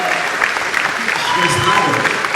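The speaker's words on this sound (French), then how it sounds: "on continue à les applaudir jusqu'à ce qu'ils montent" Loud audience applause at a cultural event as people make their way up to the stage, dense continuous clapping with voices mixed in.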